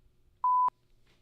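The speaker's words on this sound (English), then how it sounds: "Wow, that was a really late beep." A single pure censor bleep on a livestream, a steady mid-pitched tone lasting about a quarter second, loud and clean against near silence.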